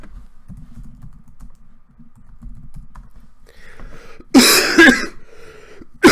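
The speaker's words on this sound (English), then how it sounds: "Sorry for coughing" A person coughs in a short loud burst after several seconds of quiet computer keyboard typing during a game stream, followed by another brief sound at the end.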